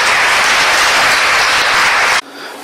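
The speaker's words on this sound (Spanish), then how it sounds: "Un aplauso para ellas." A church congregation at a parish in Táchira, Venezuela, breaks into loud, dense applause for raffle winners, filling the space for about two seconds before cutting off abruptly into quiet room tone.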